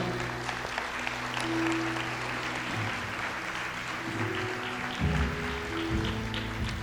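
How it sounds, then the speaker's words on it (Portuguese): A church congregation applauds during worship, a soft, continuous wash of clapping heard at a moderate distance, with faint musical tones sustained underneath. "Pode aplaudir ao Senhor."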